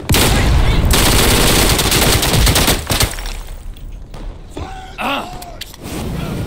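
Sustained automatic gunfire from a gun in the WWII shooter Day of Infamy, loud and continuous for about three seconds, then trailing off into scattered shots, a groaning voice and quieter ambient noise.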